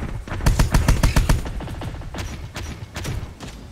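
Dense rapid bursts of gunfire in the combat game Terminator Dark Fate Defiance, loud and close at first, then scattered shots and impacts continuing at a slightly lower level.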